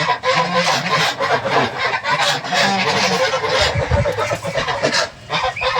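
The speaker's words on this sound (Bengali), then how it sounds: "এখন আমার এই রাজা হাঁসগুলো ডাকাটাকি করতেছে" A flock of Chinese geese honks continuously and loudly, harsh overlapping calls close by with some rustling in the background.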